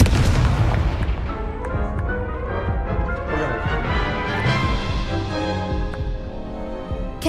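In the Hogwarts Legacy video game, an Expelliarmus disarming spell goes off as a loud, booming magical blast that fills the whole stretch, layered over dense battle effects and music.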